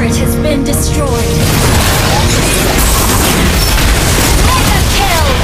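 Video game battle where a turret is destroyed: a loud, continuous blast of explosions, crashes and combat effects fills the whole stretch without pause, with a game voice line heard at the start.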